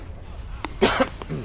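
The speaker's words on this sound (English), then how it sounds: "pardon my coughing." A few close, sharp coughs in quick succession, with faint throat sounds between them and some breathy noise around.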